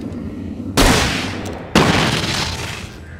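Flare gun firing in the Alan Wake video game, two loud, close booming bursts about a second apart, each followed by a long hissing, roaring tail.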